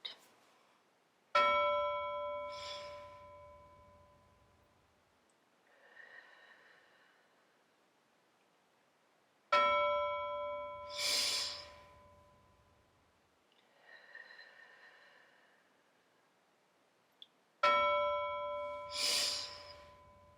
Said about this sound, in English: listen for the bell. Breathe in big when you hear it